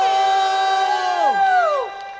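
A crowd at a concert signing event in a Kaohsiung shopping mall lets out loud, sustained whoops and cheers whose pitch slides downward as the voices trail off after about two seconds.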